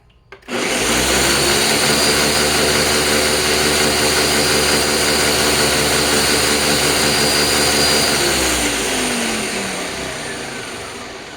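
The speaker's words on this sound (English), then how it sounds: "here's the Ninja on high" A Ninja blender runs on high speed, chopping okra with a loud, steady whirring roar that starts abruptly, holds evenly for several seconds, then winds down as the motor slows.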